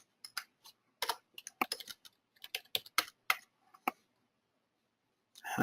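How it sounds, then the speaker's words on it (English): Typing a long number on a computer keyboard, crisp clicky keystrokes in quick irregular bursts with brief pauses, close and clear against a quiet background. "Let me enter my very long, very fake credit card number here."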